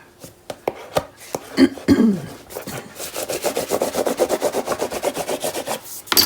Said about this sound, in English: I'm going to burnish this all into place.